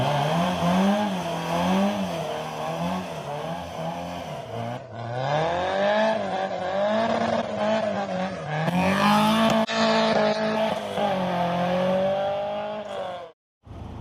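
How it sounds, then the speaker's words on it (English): Classic cars pulling away from a bikers' cafe, engines revving steadily and rising in pitch as they accelerate past, loud and continuous for the whole stretch with a brief dip near the end. "A lot of the cars have left now, apart from most of the group that we came down here following."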